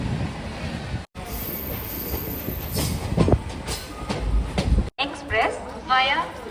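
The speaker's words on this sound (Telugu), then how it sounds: "మన ట్రైన్ స్టార్ట్ చేసి వెళ్ళిపోయింది" The Sabari Express pulls away, heard from on board: a loud rolling rumble of wheels and carriages with squealing and rattling, voices talking over it, and a platform announcement toward the end.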